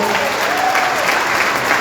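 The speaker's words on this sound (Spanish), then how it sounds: "Aplauda la gloria del Señor." A church congregation applauds during a Spanish-language sermon, dense sustained clapping from many people filling the room, loud and even from start to finish, with a faint tone underneath.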